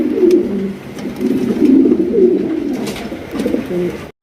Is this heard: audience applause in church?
no